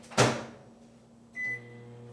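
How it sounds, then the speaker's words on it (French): Microwave oven cooking sliced aubergines stacked in a gratin dish on high: a door thud, a low steady hum, then a short electronic beep near the end. "dans un plat à gratin qui va au micro-ondes, évidemment. 4 minutes à high."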